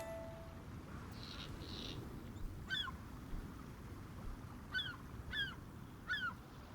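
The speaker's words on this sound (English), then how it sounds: "And so we see the birds coming in." Birds call over the ocean in Dolphin Spirit: Ocean Mission, several short, high, chirping cries spaced a second or two apart above a soft, steady low background wash.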